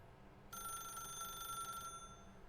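A telephone rings in The Stanley Parable Ultra Deluxe, a single bright electronic bell burst of about a second and a half, clear but quiet against a low game hum.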